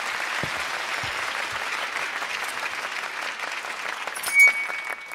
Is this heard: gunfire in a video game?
no